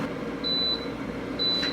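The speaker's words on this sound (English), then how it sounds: "It'll go down to 0 and beep and let us know it's done." Air fryer signalling that cooking is done: two short, clear electronic beeps, evenly spaced over a low kitchen background hum.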